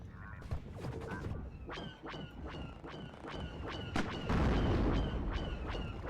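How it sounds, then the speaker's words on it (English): Repeated blaster-style shots from a small probe droid firing at Challenger tanks in a Star Wars mod of the strategy game WARNO, a steady series of sharp zaps with pitched tails over low battle rumble, a heavier boom near the end. "You actually see the little probe here taking shots at the Challengers as well."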